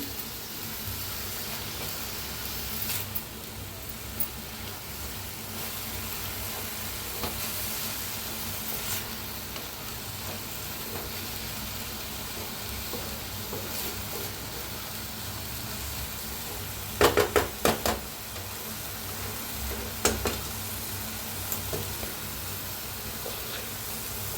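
Drumstick pods with crushed peanuts sizzle softly in a pan for a dry vegetable dish, a faint steady hiss with a few brief scraping stirs near the end.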